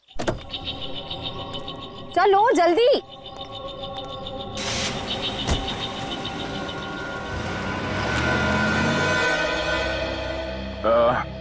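A car is boarded and driven off: door and movement noises, then a rising engine hum that swells as the car pulls away, with brief whining tones and a hurried spoken line near the start.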